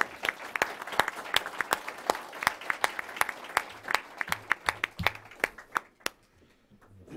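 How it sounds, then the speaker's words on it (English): A small audience applauds the ambassador at a Washington conversation event: crisp, distinct hand claps, close and fairly rhythmic, that thin out and stop near the end. "A round of applause for the ambassador."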